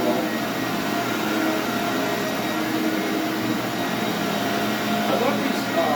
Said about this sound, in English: I love these early dual cyclonic bagless vacuums, how you kind of had the spinning motion in there.